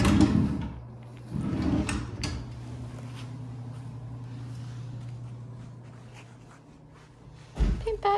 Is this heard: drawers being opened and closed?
yes